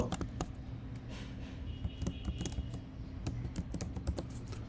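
Quick continuous typing on a computer keyboard while entering tax return details, with dense irregular key clicks close up at an even loud level.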